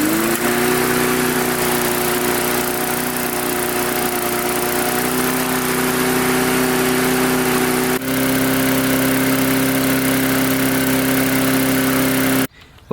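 Small engine of a trash-picked lawn mower with a freshly refitted carburetor, running loud and steady close by with a high idle drone, shifting pitch slightly midway before stopping abruptly.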